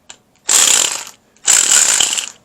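A ratchet wrench with a 3/8 drive socket clicks rapidly in two loud, close bursts of about half a second each, split by a brief pause, for a Tite Reach tool from Kimball Midwest.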